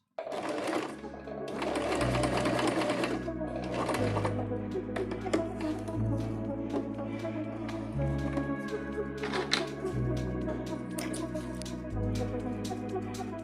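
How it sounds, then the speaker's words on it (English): A sewing machine runs a zigzag stitch across the ends of a stretched elastic band for a skirt, its needle chattering in a steady rapid rhythm with brief pauses and speed changes, close and clear. "Now we are going to sew the ends of the elastic using a zigzag stitch."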